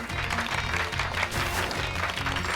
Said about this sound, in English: Give Pikachu a round of applause,